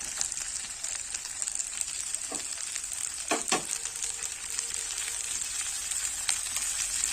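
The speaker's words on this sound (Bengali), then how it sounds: "এগুলোকে একটু হালকা করে ভেজে নেব" Chopped garlic and radhuni seeds fry in hot oil in a pan, giving a steady quiet sizzle with a couple of brief scraping stirs midway, no one talking.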